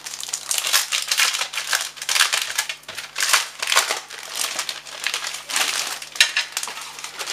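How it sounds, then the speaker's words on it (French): A scrapbooking kit package being unwrapped, with plastic packaging crinkling and crackling close to the microphone in repeated, uneven bursts of rustling and crushing that continue throughout. "Je vais vous la déballer."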